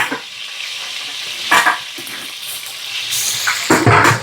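Mustard and fenugreek seeds hit hot coconut oil in a pan, crackling and sizzling close by in bursts, with a stir scraping through and the frying swelling louder toward the end.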